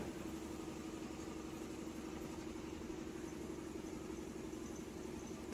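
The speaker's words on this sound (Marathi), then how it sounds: "चढायला कशी वाजते गाडी" A bus engine labours steadily as it climbs an incline near a Solapur bus stand, a constant mid-low drone that stays even and unbroken throughout.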